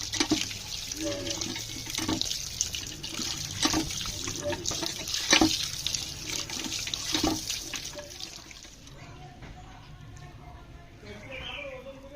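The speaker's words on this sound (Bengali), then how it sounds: "এই ছানাটা এখন ঠান্ডা জল দিয়ে সুন্দরভাবে ধুয়ে নিতে হবে।" Cold tap water running over chhana (fresh cottage cheese) in a kitchen, a steady splashing stream with intermittent sharper spatters that thins toward the end, a voice speaking over it.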